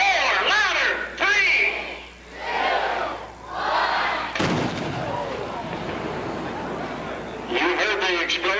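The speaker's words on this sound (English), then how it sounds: "You heard the explosion, you see the smoke, you saw the fire." A county fair stunt show crowd shouts and cheers a countdown, then a sudden loud explosion erupts and its rumble rolls on for several seconds before the voices rise again.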